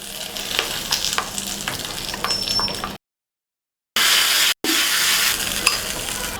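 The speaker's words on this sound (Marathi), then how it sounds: "आता ही फोडणी अशी व्यवस्थित मिक्स करून घ्यायची आहे" Hot spice tempering being stirred into a chutney, a dense close sizzle with steady stirring scrapes that drops out for about a second and then resumes.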